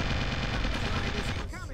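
Rapid turret gunfire in the video game Original War, a dense, continuous rattling burst of shots that stays loud and close before easing off at the very end.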